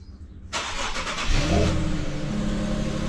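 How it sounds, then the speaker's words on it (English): A car engine starts up and revs, then settles into a deep, steady idle rumble, close and loud, with no talking. "can you guys hear the engine?"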